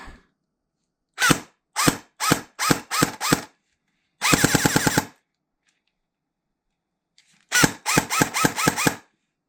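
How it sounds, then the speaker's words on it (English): A rebuilt Space Invader toy gun fires with a noisy replacement motor. Short, loud, buzzing mechanical bursts come in quick succession, including one longer rattling run. Near-silent gaps separate the bursts and no one speaks. "The motor's a little noisy, but it's just the motor I just chucked in now."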